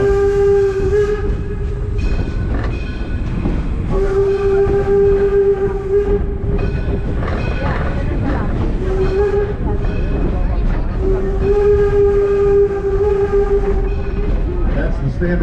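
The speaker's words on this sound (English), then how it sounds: "you'll hear first the bell, and the whistle blows a long, another long, a short, and a long" A steam locomotive's bell rings, then its whistle sounds the long-long-short-long grade crossing signal, loud and close over rumbling train noise, with people talking faintly underneath.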